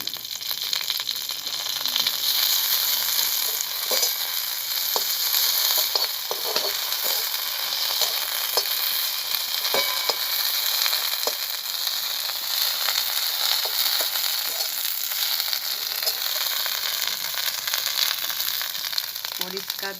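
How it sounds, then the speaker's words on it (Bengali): A leaf dropped into hot oil in a pan, giving a loud, continuous sizzle with bursts of popping and crackle that holds steady throughout, close up with no talking. "তেলটা গরম হয়ে আসছে, এই পাতাটা ফেলে দিচ্ছি।"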